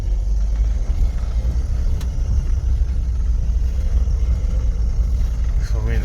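A 2010 Toyota HiAce LWB 300 D4D 120 BHP diesel van engine idles and runs in first gear, a steady low rumble close by, constant throughout with no speech.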